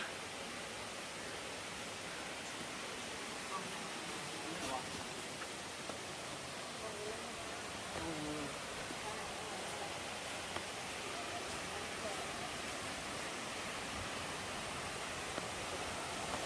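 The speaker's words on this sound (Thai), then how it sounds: "เห็นน้ำตกอยู่ น้ำตกอยู่ไกลๆนั่นค่ะ" Steady, even rushing of the Phlio waterfall in Chanthaburi, heard from a distance as a faint broadband wash of falling water with no clear breaks.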